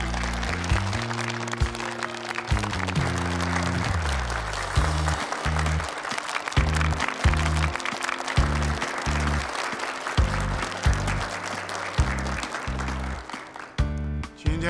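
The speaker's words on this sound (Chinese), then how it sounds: "大家掌声欢迎。" Applause breaks out at a project launch ceremony as the leader and partners are invited onstage, steady broadband clapping running the whole stretch with a loud musical fanfare playing over it, fading near the end.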